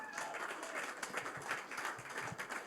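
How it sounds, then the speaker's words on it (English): A pitch-night audience applauds a fintech recycling presenter, a steady wash of many hands clapping at moderate distance, continuous for the whole stretch without pauses. "Can I have a round of applause for Martin?"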